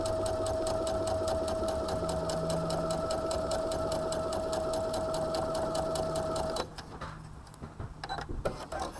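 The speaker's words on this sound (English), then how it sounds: "let me show you here what happens when we sew with both needles. And right now I'm just doing a basic straight stitch" A sewing machine runs steadily, sewing a straight stitch with twin needles at a 2.5 stitch length, a fast even rhythmic whir for most of the clip before it slows and stops near the end; no talking.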